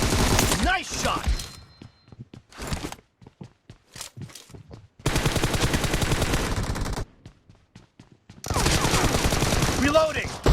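Gun Game video game gunfire comes in loud dense bursts of rapid automatic shots, broken by quieter stretches of footsteps and clatter, with game voices calling out between volleys.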